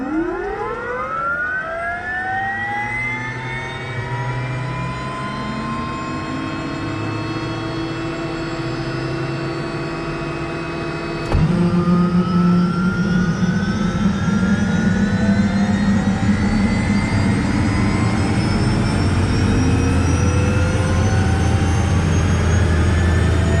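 Soloy 206 Mark I single-engine turbine airplane spooling up for takeoff, a rising turbine whine with steady tones that jumps to a louder, fuller roar partway through.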